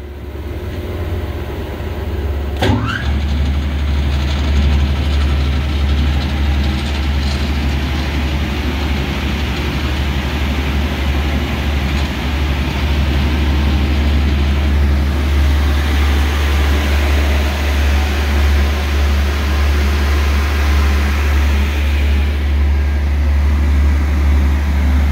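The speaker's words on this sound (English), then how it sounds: "now we're gonna turn the machine on to second speed bull" A Talsa K80E bowl chopper running at second speed. It makes a loud, steady mechanical roar with a deep low hum and broad whooshing noise, with one brief sharp clank near the start, continuous and alone.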